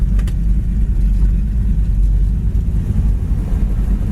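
A steady, deep engine rumble from a 1972 Chevy Nova SS muscle car cruising along with exhaust cutouts closed, low and even with no big revs or shifts.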